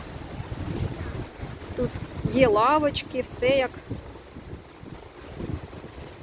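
Gusty wind rumbles and buffets the microphone throughout on hospital grounds with trees swaying, with someone speaking briefly in the middle.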